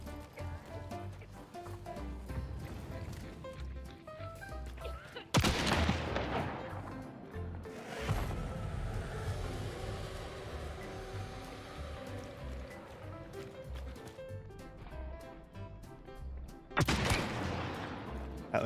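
Gunfire in the video game Hunt: Showdown, with sharp loud shots near 5 seconds, 8 seconds and 17 seconds ringing out over a dense background of game ambience and music.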